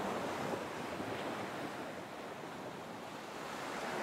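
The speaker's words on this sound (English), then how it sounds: "The waves massed themselves, curved their backs and crashed." Ocean surf rolls and crashes steadily in a continuous broadband wash, with wind buffeting the microphone throughout and no voices.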